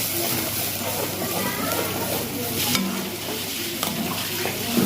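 Ginger, garlic, onion and chili paste fries in hot oil for biryani, giving a steady close sizzle and hiss with occasional stirring scrapes throughout.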